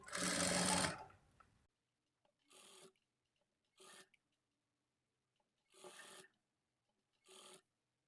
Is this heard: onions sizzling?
no